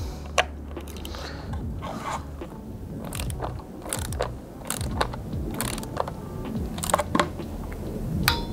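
A ratchet turns in short, uneven clicking strokes, torquing a nut down on a LiFePO4 battery terminal, close up and quiet, with no talking.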